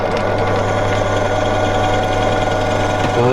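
A drill running steadily while boring blind holes into a small metal spindle lock part for a mini lathe, a loud continuous motor whine and hum with a slight change in load near the end.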